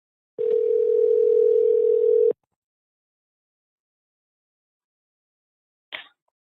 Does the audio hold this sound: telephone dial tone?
yes